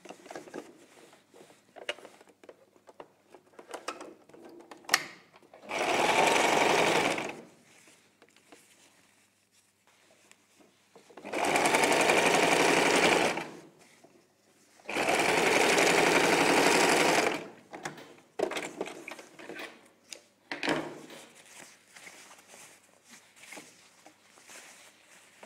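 A sewing machine stitching a child's dress runs in three steady, loud bursts of a few seconds each, with quiet handling clicks and fabric rustling between the runs.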